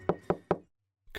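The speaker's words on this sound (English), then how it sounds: "I found the office and knocked on the door." Three sharp, evenly spaced knocks on an office door, close and solid, each about a fifth of a second apart, followed by silence and then a faint sound.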